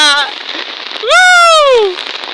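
Rain falling outdoors makes a steady broadband hiss throughout, while a loud whooping voice briefly rises over it.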